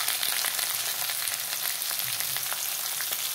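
Taro stolons and potato sizzle and fry steadily in a hot pan with turmeric and salt, a continuous close crackling hiss with no voices.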